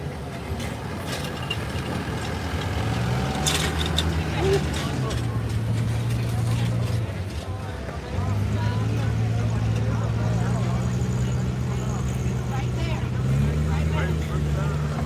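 A pulling truck's engine at a summer truck and tractor pull roars loudly and steadily under load, with pitch rising and falling as it revs. An announcer talks over the engine throughout.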